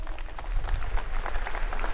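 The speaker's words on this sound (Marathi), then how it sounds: "जोरदार टाळ्या वाजवून त्यांचं आपण स्वागत करूया." A crowd at a political rally in Kurla claps loudly to welcome Ujjwal Nikam, producing a dense, steady wash of applause that stays at an even level throughout.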